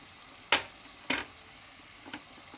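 Pumpkin frying in ghee for halwa, with a few sharp sizzling bursts as pieces are stirred in the hot pan, two strong spatters followed by a softer one, otherwise quiet.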